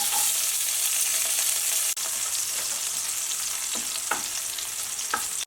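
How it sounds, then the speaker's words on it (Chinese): Chopped scallions and garlic sizzling in hot oil in a wok, a loud steady crackling hiss up close with a few soft stirring scrapes toward the end and no talking. "爆香葱蒜"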